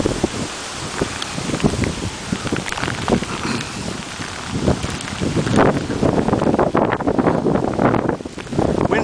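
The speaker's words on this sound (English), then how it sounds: "Wind seems to be about 35-40 miles an hour." Strong hurricane wind from Hurricane Irene roars and buffets the microphone in heavy, rumbling gusts with rustling, and grows louder toward the end, with no talking.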